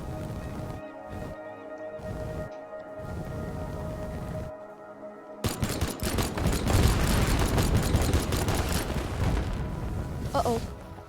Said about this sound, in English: Well, I just launched fireworks, so yeah.